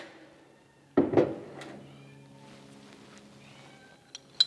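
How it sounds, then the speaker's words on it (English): A shop cat lets out a short, loud meow or two near the start, followed by quieter room tone and a couple of faint later chirps. "hi kitty."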